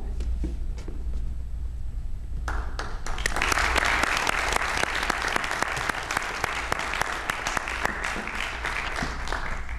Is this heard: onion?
no